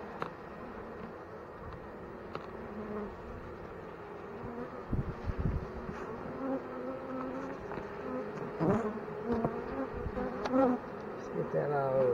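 Honey bees buzz around their comb in an opened hive, producing a continuous, close, droning hum with fluctuating pitch and occasional faint handling noises.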